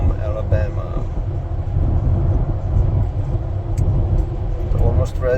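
A Tesla Model X Plaid drives on the road, giving a steady low rumble of tires and road noise heard from inside the cabin, with people talking over it.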